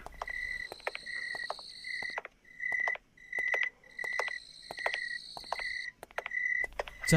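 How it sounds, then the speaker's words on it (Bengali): Crickets chirping in open fields on a moonlit night, with repeated bursts of high, shrill trilling in short rhythmic phrases separated by brief gaps, fairly close and alone. "ঝিঝি পোকার আওয়াজ আসছে"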